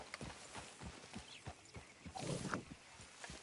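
Horse hooves clip-clop at a steady walking rhythm in Red Dead Redemption 2, fairly quiet, with a soft snort or whinny partway through.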